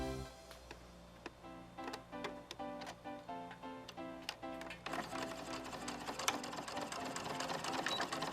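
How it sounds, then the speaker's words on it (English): A sewing machine runs steadily with a rhythmic mechanical clatter, close and moderately quiet, speeding up and getting busier toward the end. "Let's go to the sewing machine."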